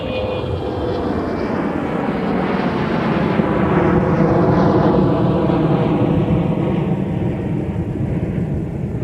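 Delta 1605, an airliner at Minneapolis–St. Paul airport, bound for St. Louis. Its jet engines give a loud, continuous rumbling roar that rises and falls slightly in pitch as it passes fairly close.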